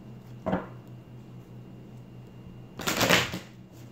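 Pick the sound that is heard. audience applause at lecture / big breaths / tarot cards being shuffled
tarot cards being shuffled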